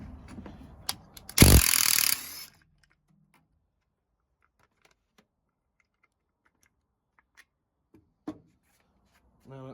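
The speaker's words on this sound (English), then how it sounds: "I'm just going to undo the nut on the shock." A short, loud burst of rapid ratcheting or impact-wrench noise, about a second long, undoes the nut on a VW Polo 6R shock absorber, followed by near silence broken only by a few faint clicks.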